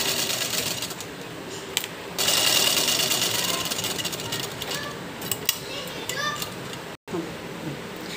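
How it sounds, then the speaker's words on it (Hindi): A sewing machine stitches lined kameez fabric with a fast, steady mechanical whir and needle chatter, close and loud, pausing briefly near the end, with faint talk underneath. "बीच के निशान पर हम इस तरह से सिलाई लगा लेंगे सबसे पहले"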